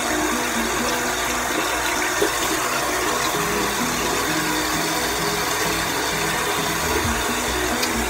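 Water runs steadily from a tap during a skincare rinse at the sink, a continuous close rushing that is heard alone without any talk.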